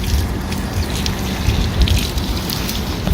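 Water runs steadily from a public drinking fountain in Spain shared by dogs and people, a close, continuous splashing rush with no talk.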